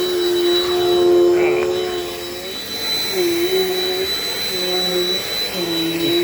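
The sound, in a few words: Dirt Devil Dynamite Plus vacuum cleaner running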